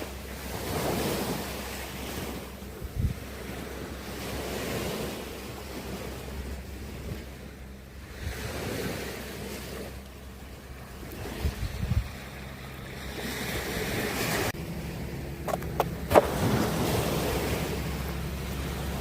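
Waves wash in steadily at Noi Na beach on Koh Samet island, a broad continuous surf roar with gusts of wind buffeting the microphone, no voices.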